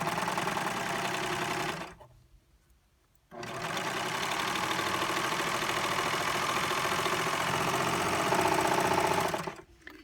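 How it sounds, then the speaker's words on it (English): A Baby Lock serger overlock machine stitching denim runs in a loud, steady mechanical whir, stops briefly for about a second, then resumes and runs continuously before cutting off near the end. "The other thing that sergers do is they cut the edge at the same time so that you end up with a nice crisp finished edge that's sealed with the stitches."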